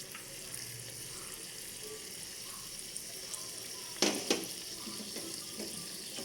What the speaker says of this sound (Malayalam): നമുക്കതിലേക്ക് വെള്ളം ഒഴിച്ചു കൊടുക്കാം